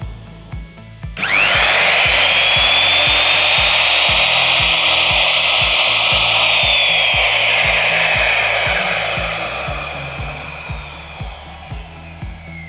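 A new Mailtank SH-145 hand router spins up with a sharp onset and runs at a steady, loud whine, its pitch easing slightly toward the end, with no talk over it.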